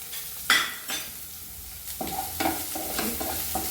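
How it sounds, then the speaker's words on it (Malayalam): Chopped onions tossed into a hot pan give close, loud scraping stirs, each followed by bursts of sizzling frying. The stirring comes in short, uneven strokes. "ഇതിലേക്ക് അരിഞ്ഞ് വെച്ചിരിക്കുന്ന ഉള്ളി ആഡ് ചെയ്യും."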